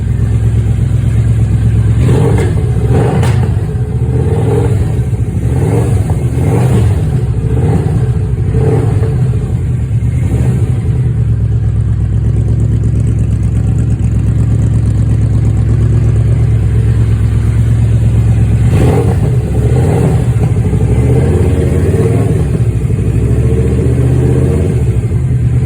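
A Yamaha Royal Star Venture motorcycle fitted with Rinehart Racing exhausts rumbles steadily nearby, with a deep idle broken by several throttle blips and revs early on and again near the end.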